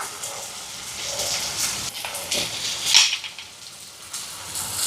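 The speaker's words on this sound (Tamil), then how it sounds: "கொதிச்சு வருது பார்த்தீங்களா" A pot of fenugreek curry simmers with a soft steady hiss and scattered bubbling pops, close by and fairly quiet, with no voices.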